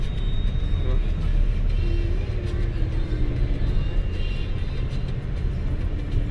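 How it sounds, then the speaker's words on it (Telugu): Vehicles, including local taxis and Tata Sumos, pass along a road on the way to Tirumala, making a continuous low rumble of engines and tyres with no clear gaps. "అన్ని ఏ బండ్లు పోతున్నాయి ఇక్కడ లోకల్ టాక్సీలు ఉంటాయి"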